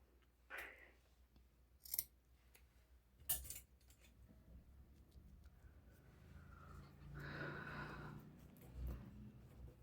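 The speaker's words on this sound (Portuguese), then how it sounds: "Vou cortar aqui o meu fio." Scissors snip through crochet yarn during a handmade bag project, a few quick sharp cuts in a quiet room, with faint handling rustles and a low hum around them.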